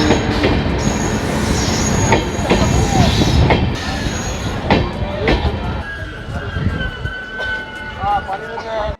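A Malda–Bangalore Amrit Bharat Express, a non-AC train hauled by a WAP5 electric locomotive, rumbles past up close with loud wheel rumble, rhythmic rail clatter and high squealing wheels, while someone speaks excitedly over it.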